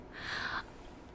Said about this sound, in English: Oh, look, a kitty!